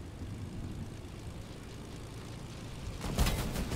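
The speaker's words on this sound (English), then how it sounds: "Someone's trying to shoot me with a plane." An airplane in the video game Fortnite gives a low droning engine rumble that swells louder near the end as it passes overhead, with no speech.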